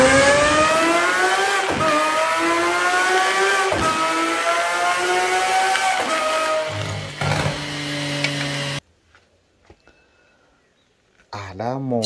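A red supercar drives and revs, its loud engine climbing and dropping in pitch through several gear changes, then falling silent before a brief rising rev returns at the end; a voice talks over it.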